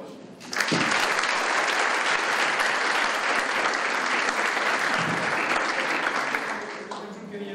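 An audience at an academic conference session breaks into applause after a brief pause, a dense, even wash of clapping that holds for several seconds before tapering off.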